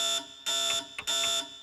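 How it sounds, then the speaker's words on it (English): An alarm in the game Death Mark blares in loud, piercing bursts, two long rings separated by short gaps with a brief blip between them. "What am I supposed to do about an alarm?"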